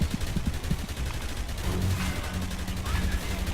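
Rapid bursts of gunfire crackle through a firefight in the video game Dark Sector, dense volleys of shots overlapping in quick rhythm with a low rumble beneath, loud and continuous throughout.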